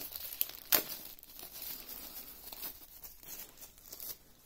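Plastic packaging around a cable being opened, with a few crinkling and tearing sounds, one sharp rip standing out early, then soft rustling handled close by with no talk.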